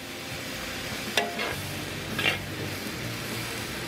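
Beef and broccoli stir-frying in a wok, with a low steady sizzle and two brief spatula scrapes and clatters against the pan.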